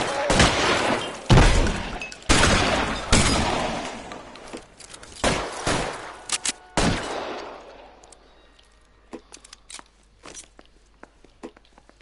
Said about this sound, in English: Er schießt auf mich hier.